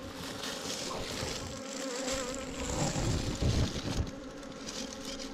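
Honey bees buzz steadily around a nest tucked into a rock crevice outdoors, a dense continuous drone that swells slightly louder midway with a few nearer passes.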